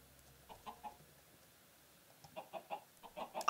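Chickens cluck in short soft bursts in Minecraft, a few spaced calls early, then a quicker run of clucks, fairly close and alone over a quiet background.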